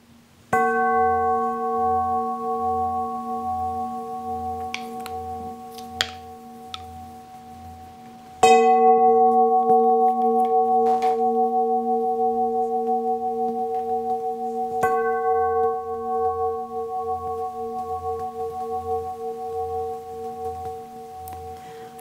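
Tuned healing pipes struck with a soft gong mallet ring out in three separate strikes, each a sustained, humming, bell-like tone with a low throbbing beat that slowly fades.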